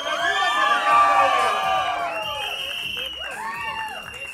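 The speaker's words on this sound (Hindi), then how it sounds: "नवाज भाई के लिए जोरदार तालियां." A crowd cheers, whoops and shouts at the Munna Michael trailer launch event. The cheering is loud and sustained, peaking early and slowly fading, with excited voices rising and falling throughout.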